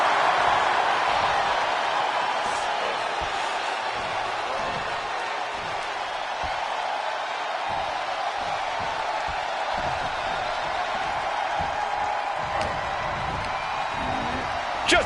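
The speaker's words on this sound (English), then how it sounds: "What a raucous crowd here tonight." A raucous crowd at a WWE RAW wrestling event keeps up a steady, dense roar of cheering and shouting, with commentators talking over it throughout.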